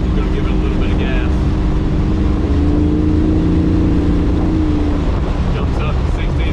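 A car with a 318 engine swapped in for a 360 cruises at about 3,000 RPM, then a bit of throttle lifts the engine drone into a rising, sustained pitch. Wind and road rumble sit steadily underneath.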